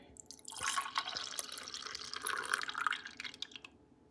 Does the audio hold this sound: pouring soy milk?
yes